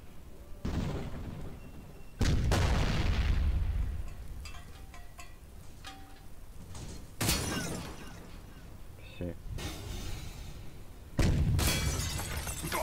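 Gunfire in the game Garry's Mod, in a 1942 roleplay server: a few sharp, loud bursts of shots stand out against a noisy background, with people talking now and then in between.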